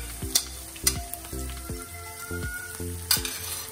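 Large ginger, cut into thin strips, sizzles in hot oil for a homemade prawn pickle. A steady frying hiss is broken by a series of sharp metallic clanks as a utensil stirs the pan, with no talk.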